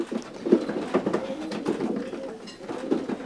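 A male racing pigeon coos in soft, rounded repeated phrases close by, a steady murmuring call that fills the short stretch with no other sound.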